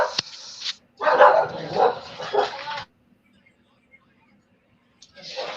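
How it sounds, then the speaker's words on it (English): A dog barks at home during a call, a few loud, close bursts with a brief pause between them, sounding over a quiet background. "I got the very stupid dog. Just a second. He's barking, ain't he?"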